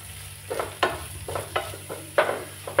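Chopped carrots and cabbage frying with onion and chili for veg chowmein, soft sizzle under repeated stirring scrapes in an uneven rhythm, close and moderately loud, no talk.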